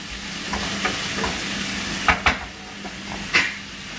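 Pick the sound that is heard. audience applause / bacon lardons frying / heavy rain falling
bacon lardons frying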